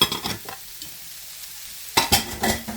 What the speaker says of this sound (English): Now I'm going to add in the peppers and onions.